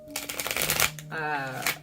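A deck of tarot cards riffled and shuffled at close range, giving quick fluttering bursts while a voice talks over the shuffling.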